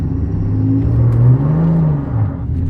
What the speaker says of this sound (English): it made my truck burn out fairly, really easy